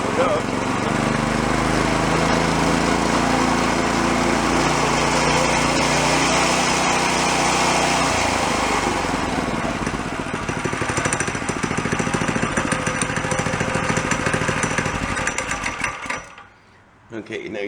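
A small engine driving a CVT transmission revs from idle up to high throttle, a loud buzzing drone that rises in pitch, holds, then drops off near the end, with a voice talking over it at times.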